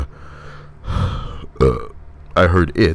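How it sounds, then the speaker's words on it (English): A few loud, close burps in a row, some long and croaky, others short and gurgling. "Are you trying to burp too"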